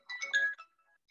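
A phone ringtone, a short bright electronic chime of a few quick notes that cuts off after about half a second, faint and alone in a quiet room.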